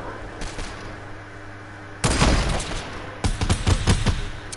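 Quad launcher fire in a video game: loud bursts of rapid blasts and explosions over steady background noise, in two heavy volleys close together.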